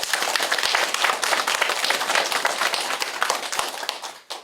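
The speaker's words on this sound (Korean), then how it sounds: "우리 이 자리에서 정정만 이장님께 큰 박수 한번 보내드리면 어떨까요?" A village gathering applauds its village head. Dense, steady clapping from many hands fills the room for about four seconds, then fades off at the end.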